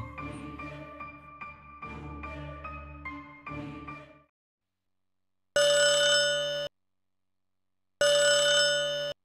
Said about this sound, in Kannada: ಫೋನ್ ಬರತೈತಿ ನೋಡು